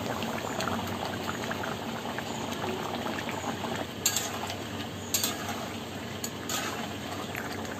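A covered pot of crab curry boils steadily with a dense bubbling rumble, broken by a few light metallic clinks near the end, close and continuous, nobody talking.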